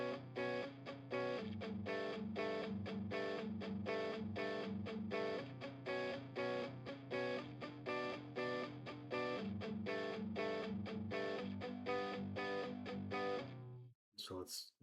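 Heavily distorted electric guitar chords, a distortion effect in melodic trap music production, play in a steady rhythmic pattern, loud and saturated, cutting off abruptly near the end.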